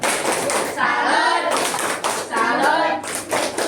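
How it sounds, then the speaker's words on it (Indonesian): A class of students claps a rhythmic tepuk salut in bursts, with chanted voices woven between the claps at close range. "Kasih tepuk salut dulu dong, tepuk salut."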